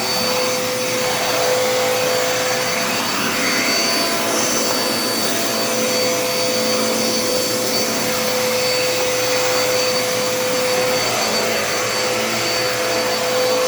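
A Dirt Devil Endura Reach vacuum cleaner runs steadily and loudly close by, a constant whirring roar with a high motor whine and no pauses.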